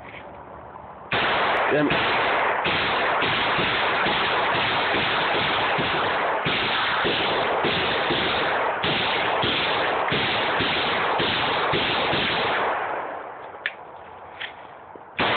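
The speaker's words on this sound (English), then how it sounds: "75 rounds out of the AK." An AK-47 fed from a 75-round drum magazine fires a long, loud, close burst of rapid gunshots running for about eleven seconds before the firing stops, with a brief curse spoken near the start.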